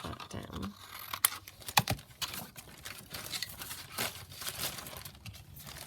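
Fabric scraps being cut down with scissors for a scrap pack, giving soft crinkling snips and rustling handling noises close by, a few sharper clicks standing out.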